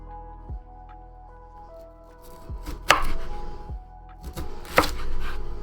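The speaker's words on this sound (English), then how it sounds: "I kind of just always keep cutting to a flat edge here" A knife chops jalapeno peppers on a cutting board for jalapeno poppers, with a handful of crisp, separate thunks and slices spread irregularly, close and fairly quiet, a couple of cuts landing sharper than the rest.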